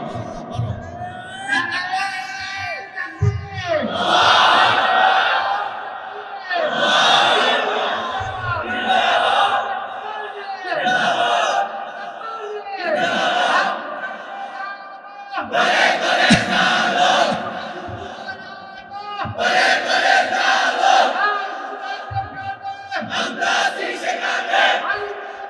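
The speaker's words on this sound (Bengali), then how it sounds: "তোমরাই স্লোগান দাও, তোমরাই তাকবীর বলো" A large crowd at a religious sermon gathering shouting a takbir slogan in loud, rhythmic call-and-response waves, several massed chants rising and falling with short pauses between, a voice leading over the roar.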